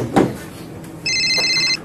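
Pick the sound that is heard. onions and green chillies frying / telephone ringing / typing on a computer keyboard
telephone ringing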